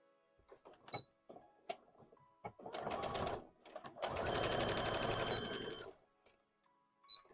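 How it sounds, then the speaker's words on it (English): A sewing machine stitches fabric close by, running in two steady humming bursts, a short one and then a longer one. Scattered small handling clicks come before and after the runs. "We're gonna sew this all the way down."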